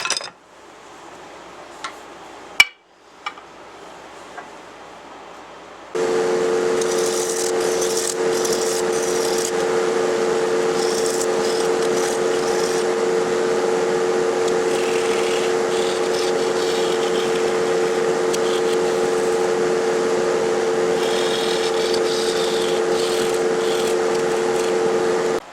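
Wet pecan wood being turned on a lathe, shaping a burned bird's beak: a steady droning hum and scraping rasp runs continuously after a few quieter bumps and taps at the start.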